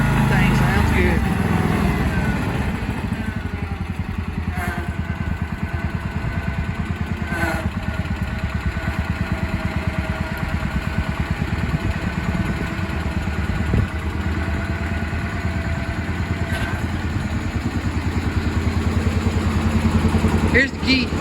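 A Cub Cadet 1250 hydrostatic garden tractor that sat unused for 20 years idles with a steady, loud, chugging engine rumble, broken by a few brief clicks and rattles.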